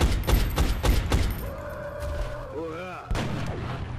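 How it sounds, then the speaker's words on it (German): Gunfire in the video game XCOM: Enemy Unknown, a rapid burst of loud booming shots at the start, then fading tonal game sounds and a whooshing effect, ending in another loud blast. "Sniper hat daneben geschossen, aber weil unser Heavy schon getroffen hat."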